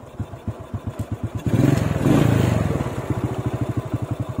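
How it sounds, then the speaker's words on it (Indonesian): A motorcycle engine idling close by with a steady, rapid, thumping putter, briefly rising into a louder rumble midway before settling back to idle as the bike is parked. "Nah, kita taruh sini aja motornya."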